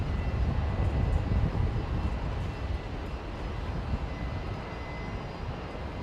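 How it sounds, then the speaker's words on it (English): A Dash 8 turboprop taxis at Brisbane Airport toward the new runway, its engines a steady broad roar heard from a distance, gradually easing slightly in loudness, with no talking. "Now we've got a Dash 8, looks like it's going over to the new runway."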